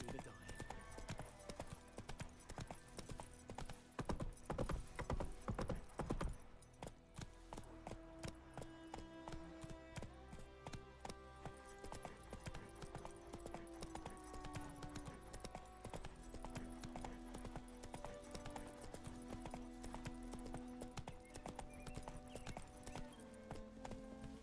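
Roach the horse's hooves clip-clop in The Witcher 3 video game, a steady galloping rhythm mixed with orchestral game music and occasional voices.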